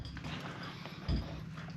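Hooves of saddled horses, including a pack horse, thud faintly on the ground with one brief heavier low knock partway through, over a steady outdoor background.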